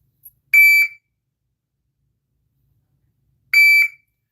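A shot timer's electronic beep sounds twice, each a short, loud, steady tone lasting under half a second, spaced about three seconds apart with silence between.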